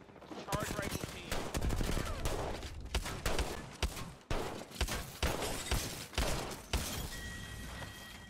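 Rapid bursts of charge rifle gunfire in a team-based online video game, loud repeated shots and cracks filling the whole stretch, with players' voices mixed in under the shooting.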